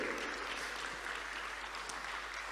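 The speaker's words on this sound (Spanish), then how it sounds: "Y vas a aplaudir con todo tu corazón." A church congregation at a Sunday evening sermon claps without a break, a faint, dense wash of applause heard from a distance.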